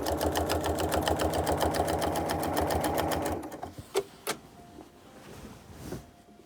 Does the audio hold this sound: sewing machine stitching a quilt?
yes